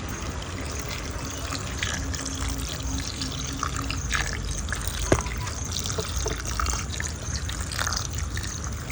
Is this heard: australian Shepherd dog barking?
no